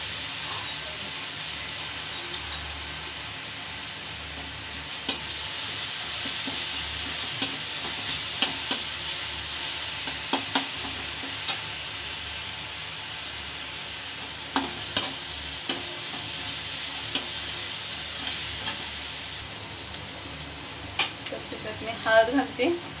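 Chili powder and spices being stirred in a hot frying pan for bread aloo patties, with a steady soft sizzle and scattered scraping ticks of a spoon against the pan, growing busier near the end.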